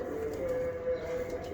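Old-breed Pachaliye pigeons cooing, a soft, steady low hum of coos that continues without a break under faint background noise.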